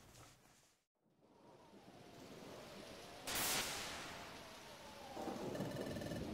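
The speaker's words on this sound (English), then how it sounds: "It sounds like a storm is coming." A stormy night in a Pokémon video game: continuous rain hiss with a rolling burst of thunder midway, a brief dropout near the start, and the downpour swelling again toward the end.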